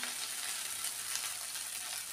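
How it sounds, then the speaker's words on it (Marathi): Ginger garlic paste sizzles steadily in a pan for a potato bhaji, a constant close hiss of frying with no pauses and no voices. "1 चम्मच आपण अद्रक लसणाचं पेस्ट टाकूया. याला व्यवस्थित परतून घेऊया."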